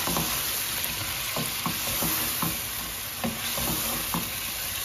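Curry seasoned with turmeric and chili frying in a pan, giving a steady bright sizzle with soft scrapes from stirring, close and continuous, with no voices.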